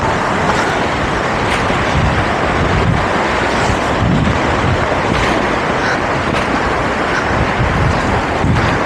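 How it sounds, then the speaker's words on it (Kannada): Kalu Waterfall in Maharashtra pours down with great force, a loud, continuous roar of falling water with wind buffeting the microphone and no talk. "ಕಣ್ಮುಂದೆ ವಾಟರ್ ಫಾಲ್ಸ್ ಕಾಣಿಸ್ತಾ ಇದೆ. ಸಿಕ್ಕಾಪಟ್ಟೆ ಫೋರ್ಸಾಗಿ ಬೀಳ್ತಾ ಇದೆ."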